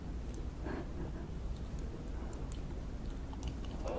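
A woman noisily chews raw leaves at lunch, faint wet smacking and crunching bites repeating over a steady low background hum.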